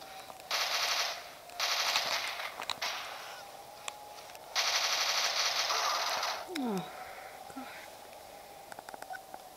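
Bursts of automatic gunfire from a Call of Duty: Modern Warfare 3 gun game match on Wi-Fi, three loud sustained volleys with brief pauses between them, plus a few scattered single shots and small in-game effects.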